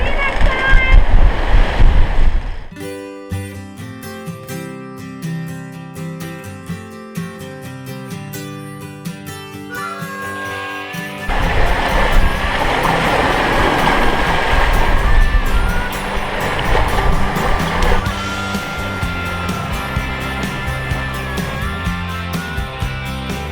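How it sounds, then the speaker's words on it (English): Ocean waves wash around a sailboat under sail in the Caribbean off Tobago, a steady rushing surf with wind noise, broken by a stretch of music-like tonal sound before the water noise swells back in. "The waves have gotten a little bigger, and we're flying."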